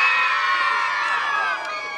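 Wedding crowd cheering and whooping loudly, a dense roar of many voices with shouts, steady for a couple of seconds and easing slightly toward the end.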